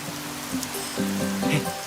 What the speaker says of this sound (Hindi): हम जब भी मिलते बारिश होती है।